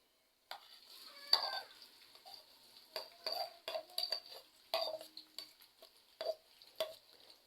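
Two medium sliced onions tipped into hot cooking oil for vegetable biryani, giving a series of short clattering, stirring and sizzling bursts with utensil knocks, close and moderately loud, no talk.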